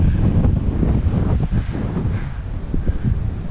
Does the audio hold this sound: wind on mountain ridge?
yes